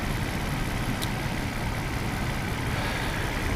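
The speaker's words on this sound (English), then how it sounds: "The engine runs good." A 1997 Mercedes S600 coupe's engine idles steadily, a constant low rumble with a broad hiss layered over it and no change in level.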